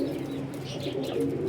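Ferozpuri Teddy pigeons coo in a low, throaty steady run, close and moderately loud, with no talking.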